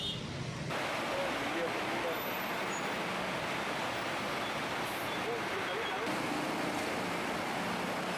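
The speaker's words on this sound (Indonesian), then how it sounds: "usai pandemi, Jakarta kembali macet" Busy Jakarta roads in a traffic jam give off a steady, dense roadway rumble throughout, broad and continuous with no single vehicle standing out.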